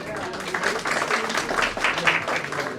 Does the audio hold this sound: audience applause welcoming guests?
yes